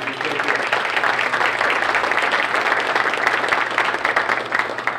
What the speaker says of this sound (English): If we could have a round of applause for our ambassadors.